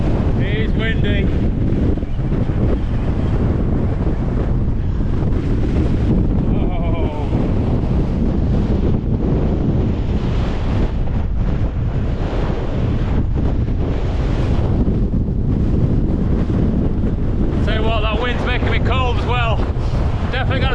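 Strong gusting wind buffets the microphone on an exposed fell summit near Stickle Tarn in the Lake District, a loud continuous roar with brief moments of breathing and faint voice underneath.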